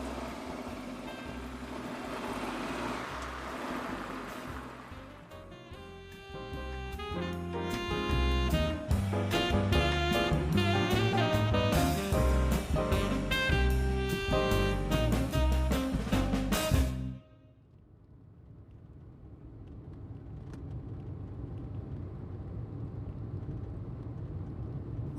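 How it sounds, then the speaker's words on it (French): A car engine restarts and revs, then the car drives off, the motor droning steadily and growing louder for about ten seconds before cutting abruptly to a low, distant rumble. No one speaks. "la voiture redémarra"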